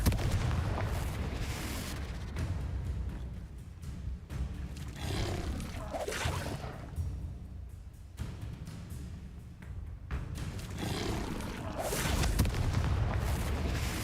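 Heavy booms and rumbling blasts from the Bombarda explosion spell in Hogwarts Legacy, several loud impacts rolling one after another with dense low roar between them and no talking.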